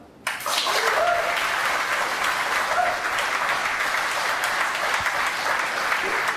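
An audience at a startup accelerator demo day in Hong Kong breaks into applause for a presenting team, a sudden onset of dense, even clapping that holds steady and fairly loud throughout.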